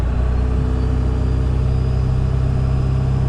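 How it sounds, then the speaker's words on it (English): A pickup truck engine idles steadily and close by, a smooth, throaty low rumble with an even pulse that holds unchanged for a few seconds, with no talk over it. "my truck sounds so much throatier, so much healthier, and it idles so much smoother"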